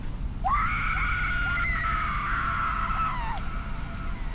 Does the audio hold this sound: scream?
yes